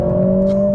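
A Mercedes CLA45s AMG in race mode gives a loud, close, steady exhaust drone heard from inside the cabin, a sustained tone with no voices.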